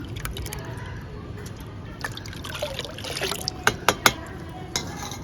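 Water poured and trickling into a container while making a curd-based organic plant fertilizer, with soft dribbling sounds building to a few sharper splashes and drips near the end, close and fairly quiet.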